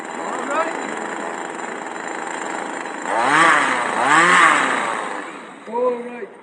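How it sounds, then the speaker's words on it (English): A small two-stroke chainsaw engine runs steadily, then revs up sharply twice in a row and once more briefly, loud and close. "the chainsaw is warmed up"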